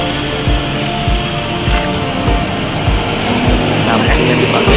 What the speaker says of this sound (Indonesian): dari arah Bukit Tinggi masuk satu unit bus Yoanda Prima tujuan Palembang dengan jet bus HD2 single class